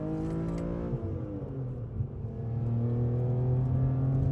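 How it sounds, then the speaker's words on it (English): A BMW E46 M3 fitted with an M3 CSL carbon airbox idles and revs, its steady exhaust drone rising in pitch with induction roar, close and continuous with no talk. "a little taste of that wonderful exhaust note and that absolutely awesome induction noise from that carbon airbox under the bonnet"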